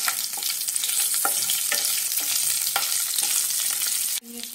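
Chopped green chilies frying with cumin seeds in a pan, a dense, loud, continuous sizzle with a few faint stirring knocks, ending abruptly near the end.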